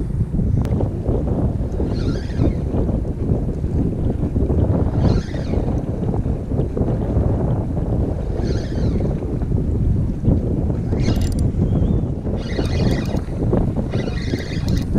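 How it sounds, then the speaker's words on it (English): Wind blusters steadily over a fishing boat on the Detroit River, a loud, constant low rumble against the microphone with faint higher hissing gusts, lasting the whole stretch without talk. "it's a little windy."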